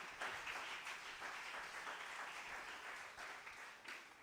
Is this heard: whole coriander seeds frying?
no